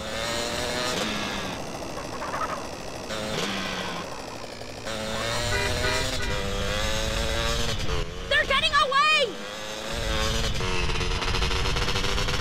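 Vehicle engine driving in the video game GTA Vice City, a steady loud motor drone with shifting revs running through the whole clip, with game dialogue and effects over it.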